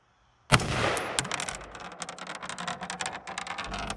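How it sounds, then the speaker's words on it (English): A Bear Creek Arsenal AR-15 in .223 Wylde fires a sharp first shot followed by a ragged string of quick reports with outdoor echo, loud and close, with no talking. "Push it the rest of the way forward, now it'll fire."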